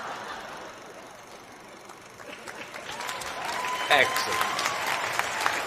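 A comedy club audience rises into applause for a standup comedian, clapping building steadily from sparse to fuller, with a voice speaking briefly over the crowd noise.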